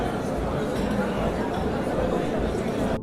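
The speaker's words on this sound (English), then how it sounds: "children leaving school" Schoolchildren leaving school in Thailand chatter beyond a cemetery wall. The voices blend into a steady, fairly faint babble with no single voice standing out.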